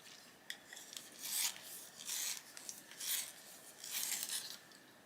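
A sky blue colored pencil being sharpened for an adult colouring page, giving repeated soft rasping, scraping strokes in bursts of about a second each, close and fairly quiet with no talking.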